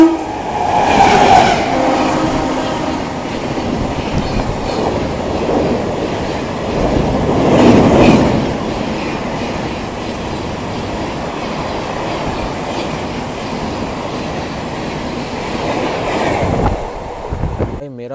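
Passenger train rushing past at full speed near Hathras Junction, a loud continuous roar with rhythmic wheel clatter, swelling and easing as the carriages pass.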